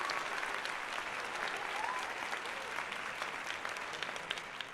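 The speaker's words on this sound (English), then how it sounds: "Round of applause" Applause from an audience fills the space, a continuous crackle of many hands clapping at moderate distance, fairly faint and steady throughout.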